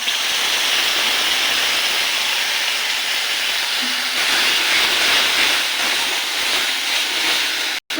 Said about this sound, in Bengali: পেঁয়াজটা ভাজা হয়ে গেছে এবার দিয়ে দেবো বাটা মশলা